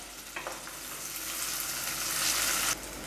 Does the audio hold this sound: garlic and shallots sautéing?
yes